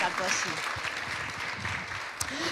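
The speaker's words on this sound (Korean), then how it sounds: "감사의 박수 올리겠습니다" A church congregation claps its hands in praise at a special worship service, a dense, sustained wash of applause running throughout, loud and close, with a voice speaking over it.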